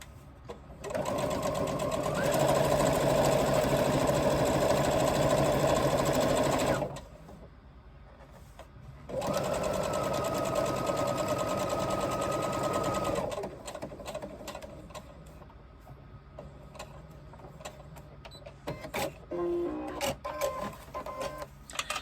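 Sewing machine stitching a crossbody bag in two steady bursts of rapid mechanical whirring, close and loud, separated by a short pause, then fading into quieter handling noises and light clicks.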